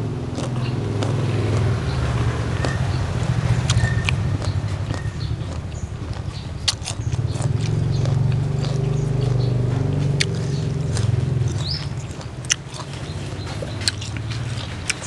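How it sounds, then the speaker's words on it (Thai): Rain patters down steadily, a continuous hiss of falling water with scattered sharper drop hits ticking through it, fairly loud and close, with no voices. "ฝนตกได้ยินบ่จ้ะพี่น้องฝนตกอยู่ปอแปะปอแปะอยู่"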